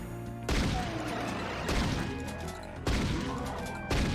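Heavy gunfire blasts in the classic shooter Doom II, four loud booming shots spaced irregularly, each followed by a rough, rumbling tail.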